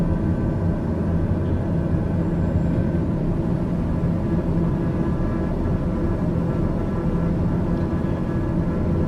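A steady, loud engine drone and low rumble from an aircraft flying a circuit around a runway in Microsoft Flight Simulator 2020, continuous and unchanging throughout with no talking.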